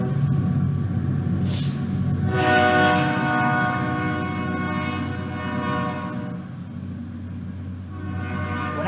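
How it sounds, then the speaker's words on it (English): A train horn sounds loud and sustained over a passing train, its steady tonal blasts holding for several seconds close by, with no voices. "excuse the train"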